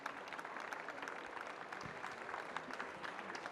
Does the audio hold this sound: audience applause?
yes